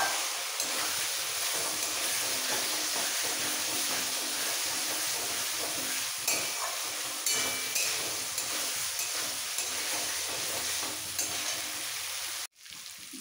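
Fried potatoes and spices with a little red chili powder sautéing in a pan for a jackfruit and potato curry, a steady close sizzle with scraping stirs throughout, then a brief cut near the end.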